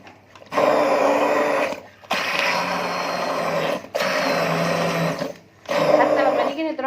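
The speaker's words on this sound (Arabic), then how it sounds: "انا عندي الهاند بلندر بحب اشتغل بيه اكتر" A hand blender pulsing through molokhia greens, a loud whirring motor in several short bursts separated by brief pauses, close up.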